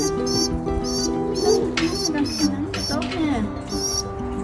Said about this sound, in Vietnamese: Này chim bồ câu hoang dã nha mọi người.